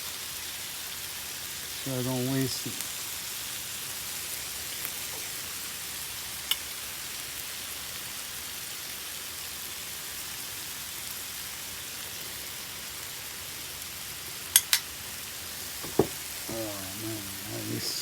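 Tomato liquid drizzled into a hot pan while making a chicken quesadilla, giving a steady, soft sizzle throughout with a few brief clinks, and a voice speaking briefly near the start and again at the end.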